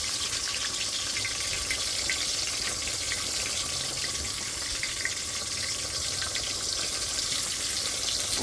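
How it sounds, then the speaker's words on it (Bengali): Eggplant slices fry in hot oil in a pan in a home kitchen, giving a continuous, even, close sizzling hiss throughout with no talking. "বেগুন ভাজি করতেছি"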